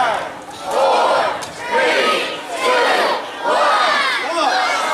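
A crowd at the Angry Birds Space Encounter grand opening ceremony yells loudly after a launch countdown, with several long, surging bursts of shouting and cheering. Young voices are among them, and the waves rise and fall close together.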